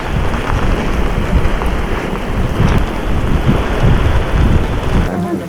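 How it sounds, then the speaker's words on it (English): Steady heavy rain in Colca Canyon, Peru, pours down in a dense, continuous hiss with low rumbling underneath, cutting off abruptly near the end. "It's raining."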